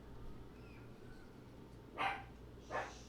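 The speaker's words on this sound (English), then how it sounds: "That's my dog." A pet dog gives two short barks a moment apart, fairly faint and somewhat distant against a quiet indoor room with a low background hum.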